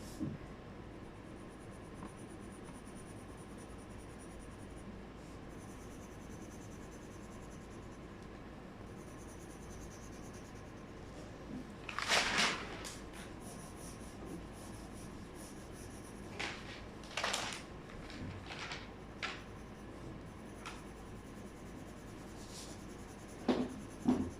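Drawing on a very large sheet of paper, a soft continuous scratching and rubbing of the drawing tool with a few louder, longer strokes scattered through, quiet and close with no talking.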